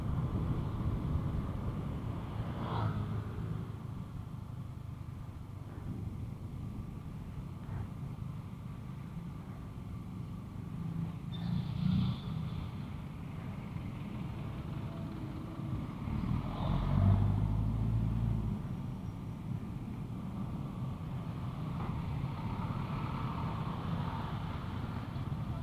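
Steady road traffic rumbles in Eastwood City, Libis, Quezon City, a continuous low hum of cars and engines with a heavier vehicle swelling past near the middle, no voices.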